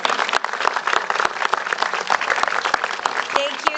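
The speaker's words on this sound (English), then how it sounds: "let's please give her a big round of applause and welcome her up here" Sustained applause from an audience at a press conference, welcoming a supervisor up to speak, with dense steady clapping and sharp individual claps running throughout.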